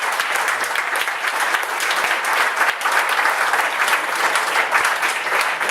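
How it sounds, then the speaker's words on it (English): Audience applause at a board meeting, steady dense clapping from a seated crowd that holds evenly for several seconds without talk. "he should really be applauded"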